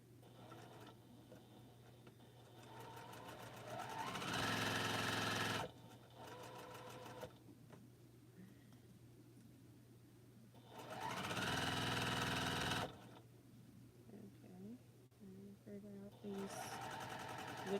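Home sewing machine stitching quilt seams in two sustained bursts of steady whirring, with quieter stretches between where a person talks over background hum.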